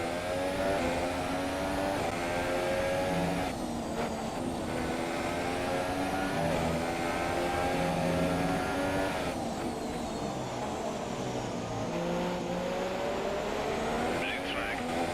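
Formula 1 cars in F1 2017 career mode racing, high-pitched engines whining and shifting in pitch as cars pass close, continuous and loud throughout.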